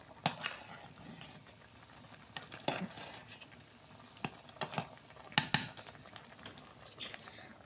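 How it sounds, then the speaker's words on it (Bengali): Papaya flowers with green chili, salt and baking soda cook in a village kitchen curry, a soft, faint sizzle broken by sharp scattered clicks of stirring against the pot. "পেঁপে ফুল দিয়ে, কাঁচামরিচ, পেঁপে ফুল, লবণ, একটু খাবার সোডা দিয়ে এটা সোডা তরকারি রান্না করছি।"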